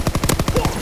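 Automatic gunfire from the Call of Duty WW2 game on the London Docks map: a quick burst of about eight evenly spaced, punchy shots, loud and close.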